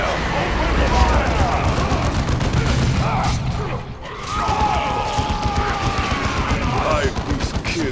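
Heavy gunfire from a battle in the Warhammer 40,000: Dawn of War II video game, with dense volleys and bursts crackling continuously over low booms, a brief lull midway, and faint shouted game voices mixed into the din.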